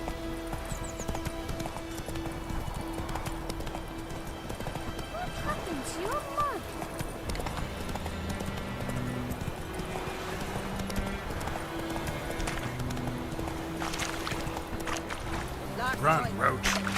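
Roach, the horse in The Witcher 3 Wild Hunt, gallops with a steady, rhythmic clip-clop of hooves, mid-distance, layered over game music and ambience, with a voice briefly present.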